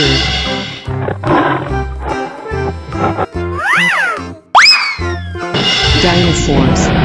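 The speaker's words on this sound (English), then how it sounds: "tiger," A tiger roars in a 3D animal video game, the growl mixed into loud, busy game music with swooping sound effects.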